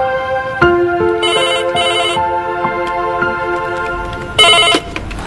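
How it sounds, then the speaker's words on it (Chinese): A telephone rings indoors in a TV drama scene. It is loud and close, with repeated bright electronic ring bursts over sustained musical tones, and no speech. "宝林，电话"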